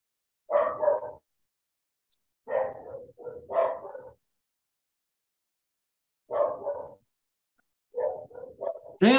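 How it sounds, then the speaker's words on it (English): Barking from two dogs on a back deck, one of them deaf, comes in several separate bursts of sharp, fairly close yaps with quiet gaps between them. "One's completely deaf, and the other one starts barking"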